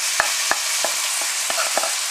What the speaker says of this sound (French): On va baisser à feu doux et on va tranquillement mijoter l'ensemble